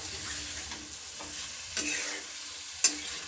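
Meat sizzling and frying in ginger-garlic paste for a biryani, with a steady close hiss, light stirring scrapes and a couple of sharp utensil clinks.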